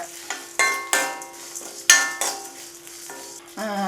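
Grated coconut and curry leaves are roasted in a pan. Loud, sharp metal stirring clanks and scrapes land roughly every half second over a light sizzle, close and with no voices.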